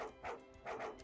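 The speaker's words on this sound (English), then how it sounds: "Oh my god, it's a dog!" A dog in the Dialtown phone dating sim game gives a pair of short, yappy barks, close and fairly loud, with a faint musical tone underneath.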